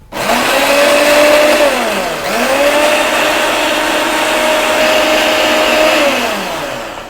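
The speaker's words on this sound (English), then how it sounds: "So I'm just gonna blend that, puree it." A blender purees vegetable soup for a baby, with a loud, steady motor whir that briefly dips and restarts about two seconds in, then runs evenly before tapering off at the end.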